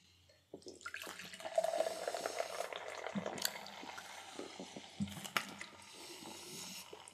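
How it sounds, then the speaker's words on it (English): Grape-scented Mountain Dew Pitch Black soda poured from a bottle into a glass, a close, quiet liquid stream with fizzy gurgling and a couple of splashy bumps, steady for several seconds. "I'm going to pour mine into my Jason glass."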